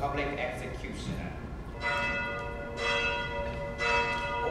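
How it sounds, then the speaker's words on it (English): Wedding bells from a theater production ring in repeated bright peals, several strikes a few seconds apart, sounding over a low stage background with faint voices. "Wedding bells, my dear woman."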